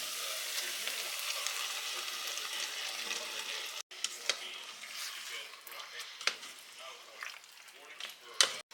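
Beans stirred into a hot cooking pan, a steady soft sizzle broken by scraping clicks and knocks of the utensil against the pan.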